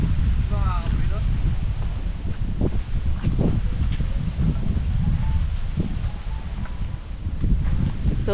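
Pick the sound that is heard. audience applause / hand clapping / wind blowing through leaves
wind blowing through leaves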